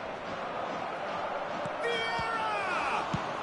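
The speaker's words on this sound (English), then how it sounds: "it's applause all round us here" A stadium crowd in a football video game roars and applauds continuously in the background, with a rising, wavering chant or cheer briefly lifting above the steady wash of noise partway through.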